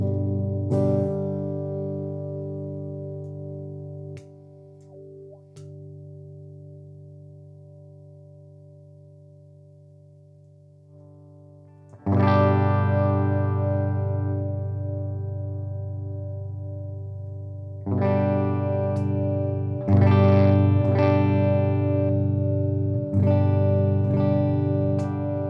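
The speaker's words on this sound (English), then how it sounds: "I'm just going to play some chords so you can hear the tone of the pedal" Electric guitar through a Flattley drive pedal, strumming sustained chords that ring out and fade, then more struck chords with a slightly driven edge, played alone.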